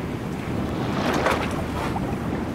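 Strong wind and waves at sea off Yobuko, heard from a boat: a constant loud rush of wind buffeting the microphone, with surf and water noise beneath.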